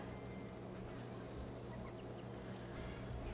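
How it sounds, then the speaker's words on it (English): Chickens clucking in the Squad Busters mobile game, a faint busy chatter of game-style clucks and squawks sitting under a steady wash of background game music and effects. "That's going to get us a lot of chickens"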